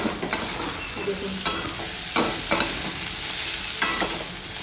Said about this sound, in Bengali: একটু শুকিয়ে গেলে আমার মেথির শাক ভাজাটা হয়ে গেছে